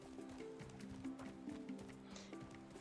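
Steady, even clip-clop of a running horse's hooves in the video game Roots of Pacha, continuous and moderately close over soft game music tones.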